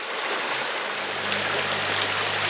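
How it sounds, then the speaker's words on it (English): A shallow river in Dovedale in the Peak District flows steadily nearby, a continuous broadband wash of water with a low hum underneath and no talking. "So we're going to cross the river."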